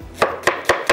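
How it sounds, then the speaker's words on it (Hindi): Knife slicing an onion on a cutting board: four crisp, evenly spaced chops in quick steady rhythm, close and loud, with nothing else heard. "एक प्याज को मैं स्लाइस में कटिंग कर लेती हूँ"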